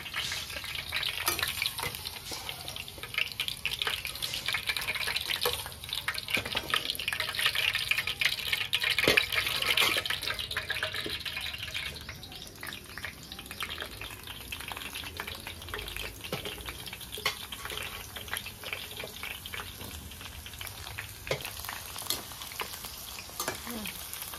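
Mushrooms fry in oil over a high flame for pickle, with a dense, continuous sizzle and bubbling, louder early and easing later, plus occasional stirring clatter.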